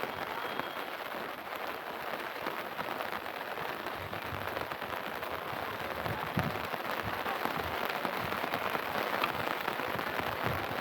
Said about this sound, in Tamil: மழையில் நனைஞ்சிடக்கூடாதுல்ல.